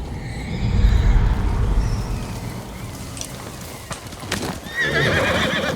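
A horse whinnies and its hooves clip-clop along in the samurai-era game Ghost of Tsushima, with rain pattering and wind in the background and a second neigh near the end.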